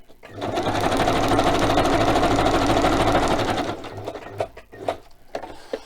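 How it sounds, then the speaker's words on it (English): A sewing machine hemming fabric runs steadily at speed for several seconds, a rapid mechanical whir, then stops, followed by a few soft handling clicks. "then you'll feed it through the sewing machine after this one"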